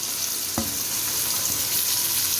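Carrots, peas and beans frying in a wok give a continuous close sizzle, with a few brief clinks as the vegetables are stirred.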